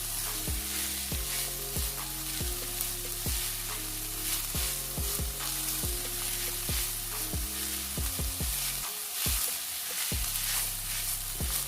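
Chicken mixture sizzling and being stirred in a pan, a steady close frying hiss heard under repeating background music, with no talking.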